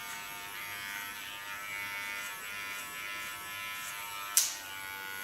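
Electric hair clipper held at an angle on the underside of its blade while cutting a boy's hair, a steady close buzzing hum throughout with a brief sharp click near the end.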